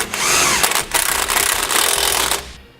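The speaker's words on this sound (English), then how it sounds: "End links tight, we can tighten up our frame brackets as well" Bolts on a frame bracket being tightened with a wrench during a front-end install on a 2015 Winnebago Minnie Winnie motorhome, a loud, continuous close-up mechanical whirring and rattling that cuts off abruptly at the end.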